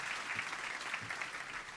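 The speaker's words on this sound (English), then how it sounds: "I think we need another round of applause, guys." Steady applause from an audience at a tech festival talk, a dense wash of clapping that holds at an even level throughout.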